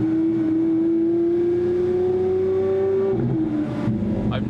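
Lamborghini Aventador SV engine, a steady loud tonal drone that holds for about three seconds, then shifts and dips as it changes pitch near the end; close and continuous.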